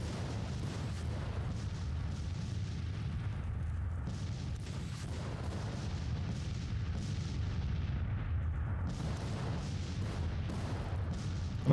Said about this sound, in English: The enemy has just decided to bombard us for the moment.